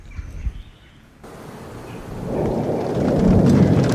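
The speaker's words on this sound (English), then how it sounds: "The pounding rain was a lot closer than it should be." Heavy rain pounds down during a night thunderstorm, with a low rumble of thunder; the downpour starts faint and swells to a loud, steady roar over the last seconds.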